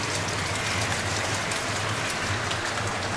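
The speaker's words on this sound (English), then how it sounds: "getting hail." Hail pelts a shed roof in Melbourne weather, a dense, loud, continuous hiss and patter of small impacts with a steady low hum beneath and no voices.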